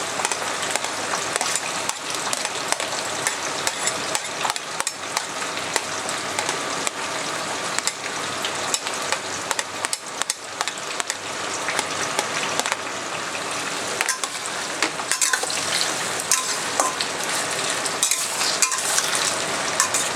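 Sliced onions frying in a pan for a garlic mutton dish, a steady close sizzle with scraping stir strokes and clinks running throughout, no talking.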